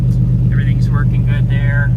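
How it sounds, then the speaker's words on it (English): A small airplane engine idles smoothly during a preflight check, a steady low rumble throughout while someone talks over it. "So hear how nice and smooth it's idling."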